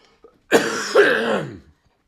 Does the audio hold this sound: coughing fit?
yes